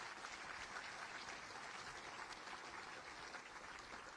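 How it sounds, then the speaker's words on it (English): An audience gives a mayor a round of applause, steady continuous clapping, fairly faint and distant, lasting a few seconds without talk. "Please give the mayor a round of applause"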